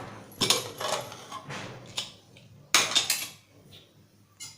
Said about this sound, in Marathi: आपण झाकण उघडूया